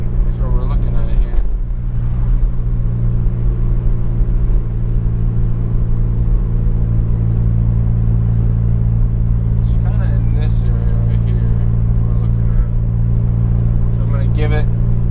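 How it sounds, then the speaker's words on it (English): A turbocharged Honda car engine lugs in fifth gear, a steady low droning rumble that holds throughout, with a person talking over it. "We're kind of lugging it out in fifth gear a little bit too."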